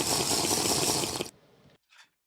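Water pours in a steady, close, hissing stream for just over a second, then cuts off, followed by a faint trickle and one small splash.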